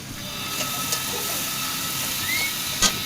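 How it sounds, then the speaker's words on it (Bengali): Cumin seeds and onions fry in a pan of hot oil with a steady, even sizzle that stays up close, broken by a few small pops and clinks. "জিরাগুলো পেঁয়াজের সাথে একটু ভেজে নিচ্ছে"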